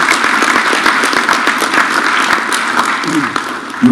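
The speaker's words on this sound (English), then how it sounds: "another round of applause for the Governor" A crowd applauds the Governor at a public project launch with steady, dense clapping heard close, holding throughout with a faint voice near the end.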